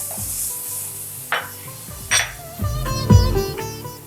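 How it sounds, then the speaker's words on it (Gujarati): Finely chopped capsicum sautés in a pan, making close sizzling and frying with several distinct stirring scrapes and clinks of a utensil against the pan, with no talking. "તેને સહેજ સોતે થવા દઈશું. હવે તેમાં ઝીણા સુધારેલા કેપ્સિકમ એડ કરીશું."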